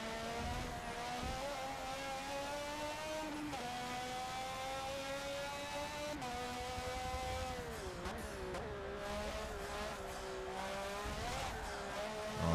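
Race cars in Forza 7, a Renault Formula One car and a Honda IndyCar: a continuous high-revving engine whine rises and falls through gear shifts over about twelve seconds, fairly faint, with no talking.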